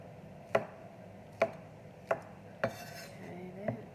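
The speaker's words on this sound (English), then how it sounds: "Cut them up probably a 2 to 3 millimeters thick, just in half, and then sliced through that way." A knife chops zucchini on a cutting board in a kitchen where vegan mushroom risotto is being prepared, giving five crisp, evenly spaced knocks about a second apart, the last one softer, with no talk.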